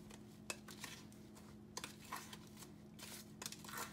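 Dry spices and seasonings for curry goat are stirred together in a bowl, with soft scraping and tapping of a spoon against the bowl at an irregular pace, quiet and close under a low steady hum.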